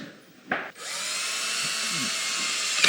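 A power drill drives Kreg washer-head pocket hole screws into a wooden window seat frame, a short burst followed by a steady, loud whirring run.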